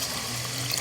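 Water is poured into rice for khichdi in a short, close trickling pour.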